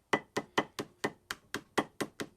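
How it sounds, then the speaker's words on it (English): About ten light, evenly spaced taps of a ball peen hammer striking along the edge of a part during a Yamaha 708 engine overhaul, crisp and close with no talking. "Take a ball peen hammer."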